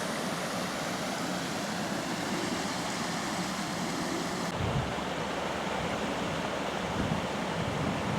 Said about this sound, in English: here we've got this river going under the canal.